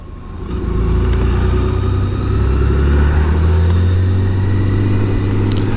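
BMW K1600 GTL six-cylinder motorcycle on new tyres pulling hard up a hill, a loud, steady, close engine roar rising as it accelerates, with wind noise and no talking.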